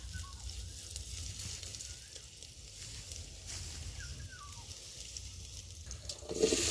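Oil sizzles as spices fry in a curry pan in a village kitchen, a soft, steady frying hiss with faint bubbling that grows louder at the very end.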